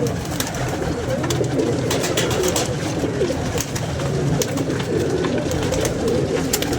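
A group of pigeons coos continuously and close by, a dense, steady layer of low throaty calls that runs through the whole stretch without a break.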